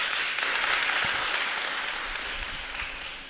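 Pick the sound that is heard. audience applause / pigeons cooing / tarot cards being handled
audience applause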